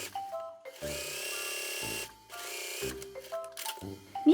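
Sewing machine stitching fabric for a lined long skirt in short, fast mechanical bursts, three or four runs separated by brief pauses, close and moderately quiet with no talk.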